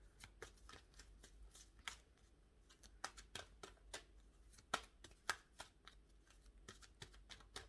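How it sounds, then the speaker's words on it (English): Isis Oracle cards being shuffled during a tarot and oracle reading. The cards make a quiet, steady patter of crisp flicks and riffles with no talking. "So let's pull an Isis Oracle card and I'll wrap up this reading."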